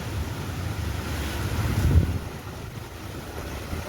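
Strong wind blows outdoors in a village ahead of a storm, a steady close rushing roar with buffeting gusts on the microphone that swell near the middle, with no voices present.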